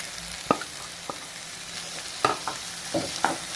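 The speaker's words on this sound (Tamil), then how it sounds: "தக்காளி நல்லா ஸ்மேஷ் ஆகி வதங்கட்டும்" Cut tomatoes sauté for egg keema masala, a constant close sizzle broken by several distinct knocks and scrapes as they are stirred in the pan, no voices.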